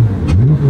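A sports car engine revs with its exhaust valves open, giving a loud, steady, low-pitched roar that rises slightly in pitch over a brief moment.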